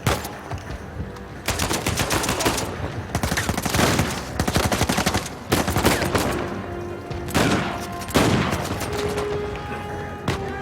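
Rapid bursts of automatic gunfire and single shots from an Uncharted 4 firefight, loud and close, coming in several dense volleys separated by short gaps, with no talking.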